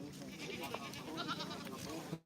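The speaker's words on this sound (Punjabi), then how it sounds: "ਲੋ ਬਈ ਬੱਕਰੇ ਦੇਖ ਸਕਦੇ ਹੋ ਤੁਸੀਂ" Goats bleat amid the bustle of a weekly goat market, a dense, continuous crowd of calls layered over general background noise throughout.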